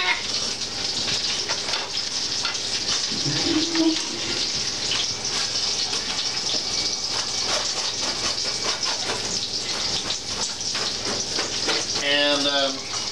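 Water pours steadily from a kitchen tap into a pan of drained pasta noodles for a Zatarain's pasta jambalaya, a continuous broadband rush running the whole time with brief clatter and faint voices.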